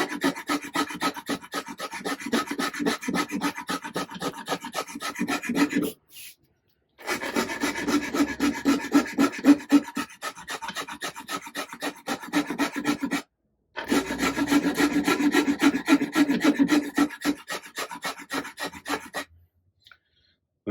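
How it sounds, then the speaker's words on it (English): A rasp works a carved wooden guitar neck in fast, rhythmic rubbing strokes, close and loud, in three long bursts separated by short silent pauses. "you're finishing it off with finer files, rasps, or sandpaper, whatever you've got to hand"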